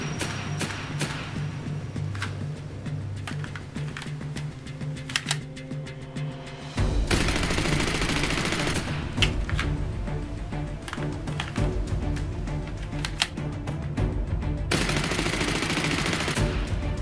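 The RE-45 autopistol from the video game Titanfall fires on full auto, a rapid, continuous stream of close, punchy shots lasting the whole stretch, with the barrage turning louder and denser partway through.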